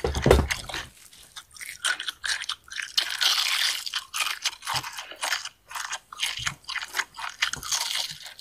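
Crunchy fried chicken being bitten and chewed close up, with loud repeated crisp crunches and wet chewing sounds in an irregular rhythm, no talking.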